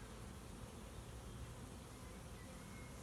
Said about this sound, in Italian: Le api stanno volando abbondantemente